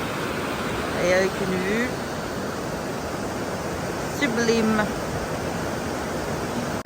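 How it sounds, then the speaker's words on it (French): Waterfall heard from the top of the cascade, a steady broadband rushing roar filling the scene throughout, with a person briefly speaking over it twice. "Et nous sommes arrivés au sommet de la cascade."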